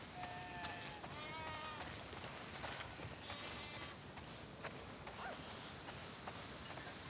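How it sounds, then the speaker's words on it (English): Sheep bleating in The Last of Us Part II's farm area, a few faint wavering calls early on over a constant loud wash of ambient rain-like noise. "Now we gotta get the sheep into the barn."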